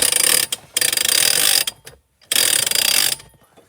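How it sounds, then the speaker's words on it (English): A ratchet jack on a 2016 Ice Castle fish house cranks in two long bursts of rapid, loud clicking, separated by a short pause, close up with no talking. "release the pressure off the pin, crank it up"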